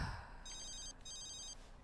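In The Sims 3, a phone ringtone sounds as two quick bursts of a bright, electronic trilling ring, with a short gap between them, fairly quiet and with no voices.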